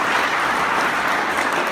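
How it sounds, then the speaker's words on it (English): A conference keynote audience claps in a dense, steady burst of applause, loud and continuous throughout with no voices over it. "Give him a round of applause, please."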